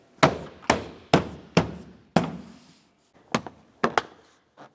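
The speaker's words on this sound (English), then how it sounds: "go ahead and give it a couple loving bonks just to drive it in" Several firm hammer-like bonks drive a rear strut component into place on a 2009-2010 Pontiac Vibe, five heavy strikes in an even rhythm followed by a few lighter taps, close and loud with no talking.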